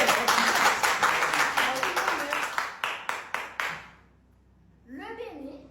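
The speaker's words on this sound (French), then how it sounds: "Applaudissez pour ça." An audience clapping in a brisk crowd of hands that thins to a few separate claps and stops, followed by a short stretch of quiet and then a voice speaking.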